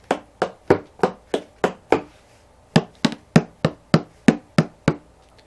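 Hand drum struck with flat open-palm strokes, a run of eight evenly spaced dry slaps, a brief pause, then eight more, each crisp and short with little ring.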